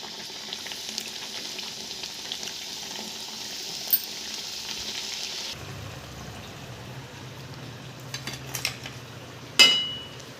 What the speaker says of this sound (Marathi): आता अशी एक एक कचोरी आपण सोडायची, एकदम मीडियम गॅसवर तळायच्या